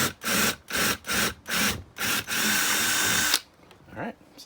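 A power drill bores into a PVC rod holder in a string of short, loud bursts with brief pauses, then one longer steady run before it stops and quieter handling noise follows.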